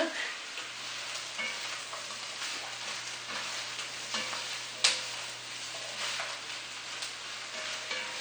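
Vegetables for borscht sautéing in a pan, a steady soft sizzle with stirring scrapes and an occasional sharper clink, close and continuous throughout.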